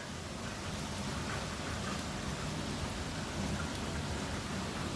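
Steady heavy rain pours during a Johannesburg hailstorm and thunderstorm, a dense continuous hiss with low rumbling underneath, faint overall and even throughout.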